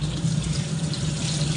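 Water pours steadily into a washing machine loaded with clothes and liquid detergent, a continuous close-up rushing that stays even throughout with no voices.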